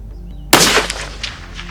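A single sharp, loud report from a Ruger rifle chambered in 6.5 Creedmoor, fired at long range, bursting out after a quiet pause and trailing into a rolling echo that fades over the next second.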